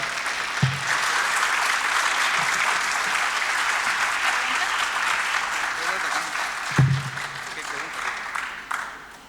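Audience applause at a Spanish-language talk, steady dense clapping filling the whole stretch with a few sharper nearby claps standing out; no speech rises above it.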